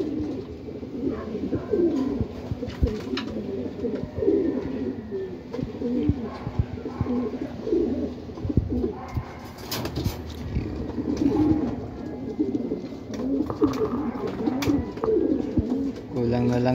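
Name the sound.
training pigeons cooing as they enter the loft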